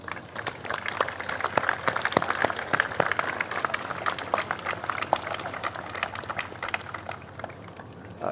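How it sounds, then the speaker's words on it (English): An audience at a mayoral event aboard the Intrepid Sea, Air & Space Museum applauds steadily, dense clapping holding at a fairly even level for several seconds. "Applaud your neighbor"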